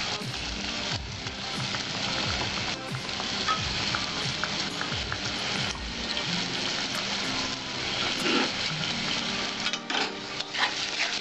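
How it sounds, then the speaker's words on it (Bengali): Masala for Bengali potol alur kalia with tomato puree sautéing in a pan, a steady sizzle with scraping and stirring clatter throughout. "আমি ভালো করে কষিয়ে নেব"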